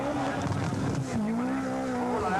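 A factory-prepared 310-horsepower Lancia rally car with a plastic body races on tarmac at the Ypres rally, its engine note rising and falling as it passes, while a commentator talks over it.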